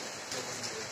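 Rain falling in a village, a brief soft, steady hiss that stays faint and even throughout, with no voices.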